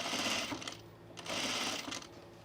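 An overlocker sewing machine whirs in two quick bursts with a brief slowdown between, close and loud with no talking, while a pin tuck sleeveless top is being sewn.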